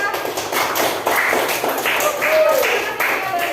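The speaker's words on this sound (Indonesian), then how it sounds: "Ya, berikan tepuk tangan yang meriah." Schoolchildren in a classroom clapping their hands, a brisk run of close, sharp claps mixed with excited voices and a few squeals as the applause goes on.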